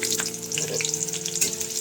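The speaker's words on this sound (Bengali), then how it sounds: "সর্ষের তেল অ্যাড করার পরে পেঁয়াজ কুচি" Chopped onion frying in mustard oil, a steady close sizzle with light crackle and faint stirring, no voices.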